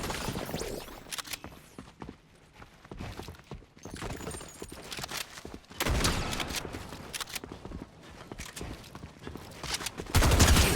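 Video game gunfire rattles in rapid bursts and scattered single shots amid footsteps and building clatter, moderately loud and close, with a heavy burst near the end.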